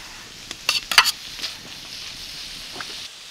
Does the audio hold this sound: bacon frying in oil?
yes